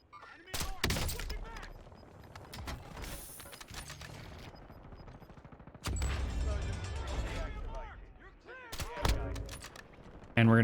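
Sniper rifle fire in a first-person shooter video game: several sharp, loud reports spaced seconds apart, each followed by bolt and mechanism clatter, with a player talking over the action.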